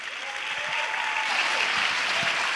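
A conference audience at a design event applauds a speaker, dense sustained clapping that fills the room evenly throughout, with no voices standing out.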